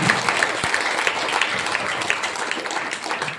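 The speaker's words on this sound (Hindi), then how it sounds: "जोरदार ताली बजा दीजिए इनके लिए।" Loud, steady applause from a gathered crowd at an advisory plan meeting, many hands clapping continuously and densely throughout, close and full, with no speech over it.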